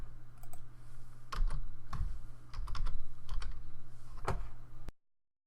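Typing on a computer keyboard, close and clear, a quick irregular patter of key clicks with a few louder strikes over a faint low hum, then sudden silence.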